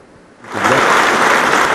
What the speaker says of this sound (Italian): Un applauso accurato